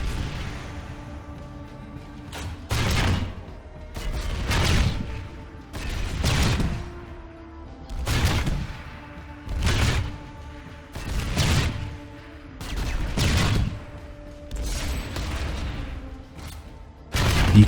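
A Vulcan vehicle cannon in Planetside 2 fires in repeated heavy bursts, roughly eight booming volleys spaced a second or two apart, each a dense roar separated by a low engine hum.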